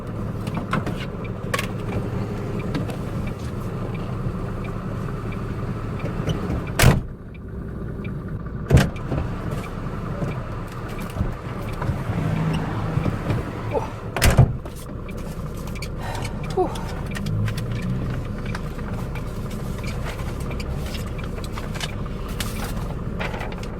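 Steady road traffic rolls past a concrete truck parked on a steep British hill, close engine drone and tyre noise with a few sharp knocks and clunks breaking through.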